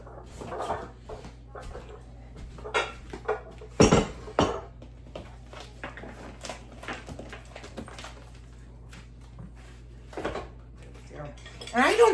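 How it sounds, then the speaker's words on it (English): Bowls clattering as they are gathered in a home kitchen for banana bread: ceramic knocks and clinks in irregular bursts, with a few louder clanks, close by, and a voice talking in between. "I'm just going to go over here and grab my bowls."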